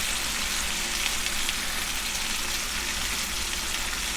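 Spices frying in a pan with melted tomato, ginger and garlic for a fish curry: a steady, even sizzle that hisses without pause from start to finish, close up, with no voices.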